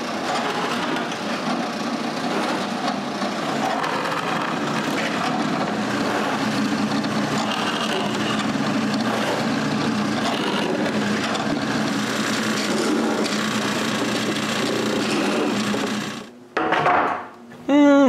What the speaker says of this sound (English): I mark where to drill the screw holes and drill them.